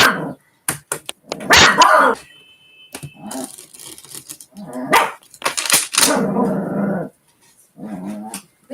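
A dog barks and growls in several loud, close bursts separated by short pauses, with yips mixed in and no talking over it.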